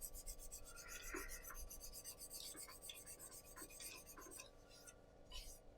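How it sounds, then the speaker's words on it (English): Sandpaper rubbing rough tool marks off a hand-turned pen, a steady close rasping scrape running throughout with small bursts of friction noise. "just quickly sanding off the rough tool marks, so prepping it for the actual sanding of it"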